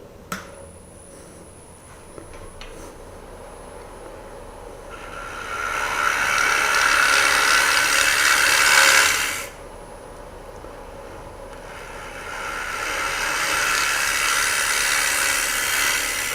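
A wood lathe cuts the bottom of a bowl, the gouge making two sustained, loud hissing tearing passes over a steady motor hum, separated by a brief quieter pause.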